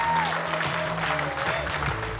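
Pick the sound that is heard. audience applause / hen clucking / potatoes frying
audience applause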